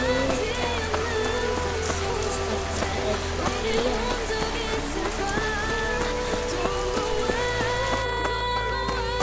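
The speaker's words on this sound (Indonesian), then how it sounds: "Kok hujannya makin lebat ya?" Steady in-game rain in Sakura School Simulator, a continuous hiss of falling drops on surfaces layered under a busy tonal music track, even and fairly loud throughout.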